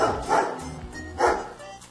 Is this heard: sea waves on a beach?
no